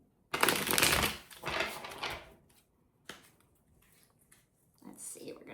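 Tarot cards riffle and shuffle in quick papery bursts, close and fairly loud, followed by quieter taps and shuffles with brief pauses.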